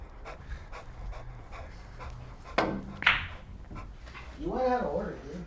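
A dog pants rhythmically while being walked outdoors, with short sharp slaps or steps cutting in midway and a brief yelp-like vocal near the end, people talking faintly in the background.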